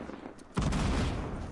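A sudden burst of video game gunfire erupts after a quiet moment, a loud sustained fusillade of rapid shots.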